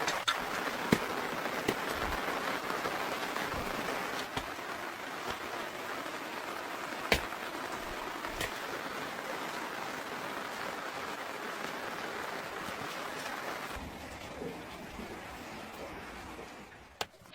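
Heavy rain falls steadily on a house in the mountains, a dense continuous wash that stays loud almost throughout, with a few sharp knocks and a slight easing near the end.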